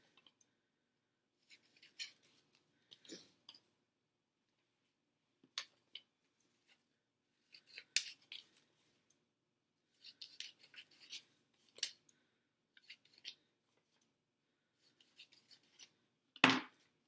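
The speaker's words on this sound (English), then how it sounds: "you can cut right down the middle and then cut out each set of words by themselves" Scissors snipping paper along printed black lines, scattered short crisp cuts in small clusters with long quiet gaps, close and soft, ending with one louder snip.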